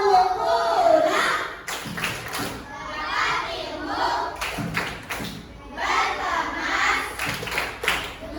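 A group of children perform a rhythmic 'tepuk pulang' clapping chant, their voices chanting together in bursts punctuated by sharp claps and thumps, nearby in a classroom setting.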